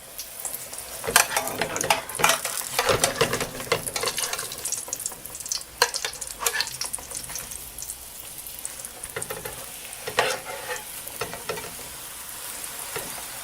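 A pan pizza sizzles and fries in a hot skillet over medium heat, with a steady crackling hiss broken by scraping, clattering bursts as the pieces are flipped.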